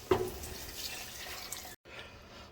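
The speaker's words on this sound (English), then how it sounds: "I'm going to put 7 cups of this into the pot." Seasoned vegetable base pours into a soup pot for potato soup, giving a close, steady liquid splashing that runs alone and then briefly cuts out.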